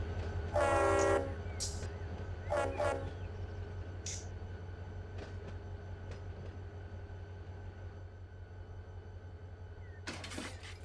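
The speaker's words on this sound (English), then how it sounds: "Weird horn, though." Locomotive horn in Run 8 Train Simulator sounds in two short blasts, the first longer, over a constant low diesel drone, with a further brief horn tap near the end.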